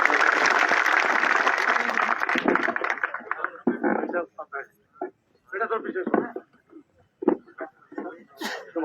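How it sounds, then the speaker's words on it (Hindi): Crowd clapping at an outdoor election rally in Adampur greets a speaker, heavy for a couple of seconds and then thinning out into scattered claps as a voice on the public-address system takes over. "तालियां बजाकर स्वागत करें।"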